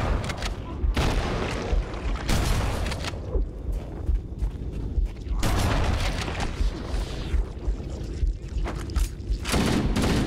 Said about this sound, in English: Okay, something exploded.